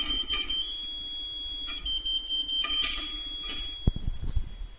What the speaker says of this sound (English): Be careful that you always hear the continuous tone.